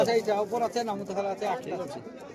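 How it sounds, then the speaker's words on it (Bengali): Pigeons coo in a rolling, throaty run at a livestock and bird market, close and fairly steady, with market chatter blending in beneath. "সাদা আবলুক টাইপের একটা পায়রা রয়েছে"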